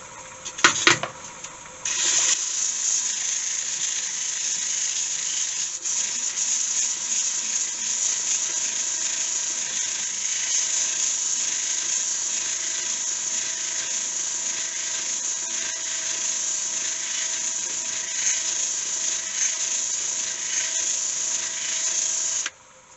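After a few brief knocks, a continuous high-pitched abrasive whine of a stationary homemade sanding tool against the inside of a walnut vase spinning on a lathe holds steady for about twenty seconds, then stops.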